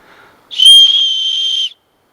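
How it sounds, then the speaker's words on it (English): A whistle built into a paracord bracelet gives one loud, shrill, steady blast lasting just over a second, alone after a faint quiet lead-in. "I've seen some that have whistles on them, which is good"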